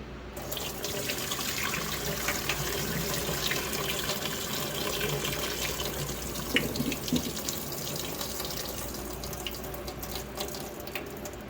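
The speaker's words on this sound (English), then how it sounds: "now I'm going to rinse it 4 or 5 times in just regular hot tap water" A hot tap runs steadily into a sink, rinsing coconut husk, water splashing and gurgling continuously at close range with a few small knocks partway through.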